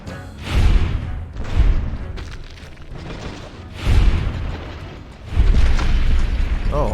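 Video game explosions in Fallout New Vegas in a post-apocalyptic wasteland, several heavy booms and rumbling blasts going off in quick succession with thudding low impacts and debris crackle, loud and close.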